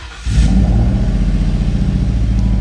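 A Ford 4.6 V8 with 108,000 miles and a slight exhaust leak cranks and fires, then settles into a loud, close, lumpy idle with a rapid throbbing pulse.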